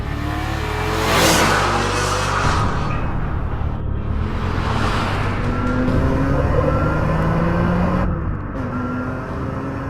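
A BMW M3 on a race track revs hard, its engine note climbing and falling through repeated throttle pulls, loud and close, with a steady roar continuing throughout and no voices.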